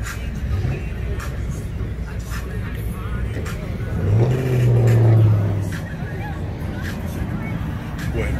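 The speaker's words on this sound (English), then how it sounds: "he about to burn the tires too" Engine of a Benz revving up in a loud swell before a tire burnout, a rising roar peaking mid-clip over constant crowd chatter and nearby voices.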